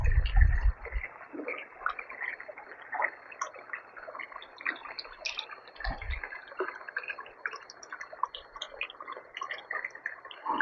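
Water runs steadily near a riverside garden in a quiet forest setting, a continuous soft ticking and dripping wash that holds throughout, with a couple of brief low thumps.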